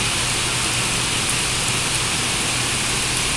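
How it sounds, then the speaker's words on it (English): Heavy rain pours steadily during a thunderstorm in the Bronx, New York City, a dense, loud, continuous hiss of water with no pauses and no voices. "A lot of rain."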